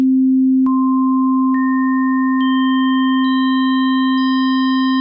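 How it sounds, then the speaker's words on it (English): Pure sine tones stacked one after another into a dissonant chord of randomly chosen harmonics: a steady low hum, then higher sustained tones entering roughly every second with faint clicks until five or six pitches ring together. "adding harmonics at random and making a really weird dissonant chord"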